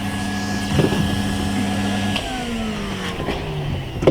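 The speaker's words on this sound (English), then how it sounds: "quick hoover off there" A vacuum cleaner hoovers loose electrostatic grass and undergrowth off a scale model, giving a steady, close motor drone with a shifting whine and a few knocks near the end.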